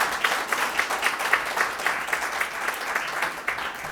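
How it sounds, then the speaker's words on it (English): Steady applause from an audience at a women's initiative launch event, many hands clapping continuously at moderate volume with no voices over it. "Can we have a massive round of applause for the woman that's got us here this morning?"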